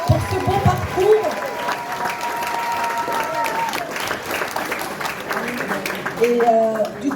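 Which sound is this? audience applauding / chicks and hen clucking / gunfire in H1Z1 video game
audience applauding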